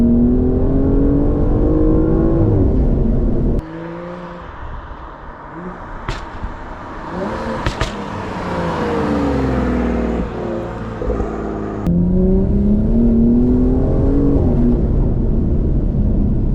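A tuned BMW 235i with an MHD Stage 2 Plus tune and ZF8 automatic gearbox accelerates hard, its engine note climbing through several gears with brief shift breaks, loud and close throughout.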